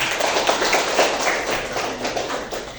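A classroom of students claps for their classmates after group presentations, an even, fairly close rattle of hands that gradually fades, with little talk.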